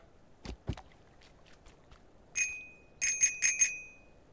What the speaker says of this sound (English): every single time I go by the bell or hear any sort of bell, I'm like ding ding ding